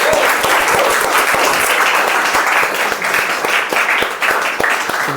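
Applause at a speakers' club meeting, loud close clapping from a small crowd with distinct individual claps audible, continuing steadily throughout.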